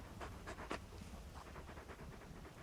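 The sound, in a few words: dog panting, Torgal in Final Fantasy XVI video game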